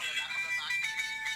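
A mobile phone plays a tonal, melodic ringtone in a short steady burst at moderate volume, with no talk over it.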